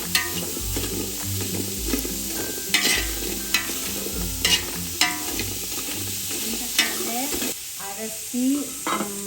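A large batch of onions, 450 grams, for dum chicken biryani sizzles steadily in a pan, broken by repeated scraping and clanking strokes of a spoon stirring them, with no talk.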